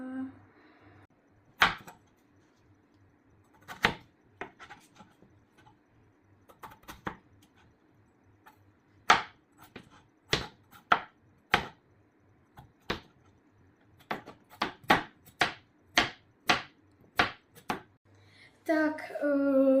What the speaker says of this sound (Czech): Tak jsem si oškrábal zemáček a teď ho nakrájíme.